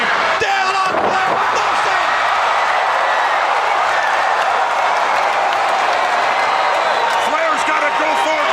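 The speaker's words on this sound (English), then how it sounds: "listen to the crowd" A roaring wrestling arena crowd cheers loudly and continuously as Flair works the figure four, with a dense, sustained wash of noise and a few claps and smacks near the start.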